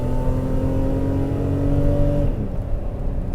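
A BMW E32 7 Series with a 4-speed automatic accelerates at full throttle, its engine droning loudly with a rising tone that drops abruptly at an upshift, then pulls on as a lower rumble.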